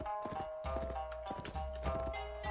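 Horse hooves clip-clop in the video game Gekokujo, with rapid overlapping hoof beats of mounted units over a steady game soundtrack and ambient battle noise, continuous and moderately loud.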